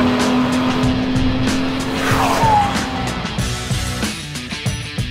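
Two cars, a BMW M2 and an Audi RS3, accelerate hard side by side in a drag race, their engines roaring steadily and loudly with shifting pitch and a brief tire squeal, with no talking.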